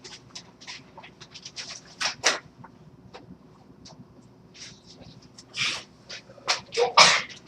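A sneeze during a math lecture in a classroom, a sharp burst standing out over a noisy room, with a few softer breathy bursts and some background voices around it.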